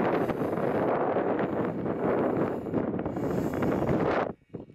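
Strong desert wind roars and buffets the microphone in a dense, continuous rush that cuts off abruptly near the end.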